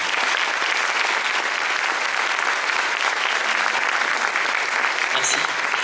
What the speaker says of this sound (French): Oui, vous avez le droit d'applaudir.